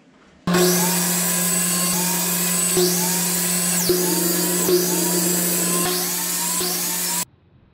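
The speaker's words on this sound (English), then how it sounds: "for now we'll start cutting the length" A power saw whines loud and steady for nearly seven seconds, with several brief dips as it cuts shaker-style cabinet door parts to length, then stops abruptly.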